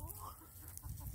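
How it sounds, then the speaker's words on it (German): A large flock of chickens clucks faintly in the background outdoors, giving a low, steady murmur of soft calls. "Boah, sind das viele Hühner."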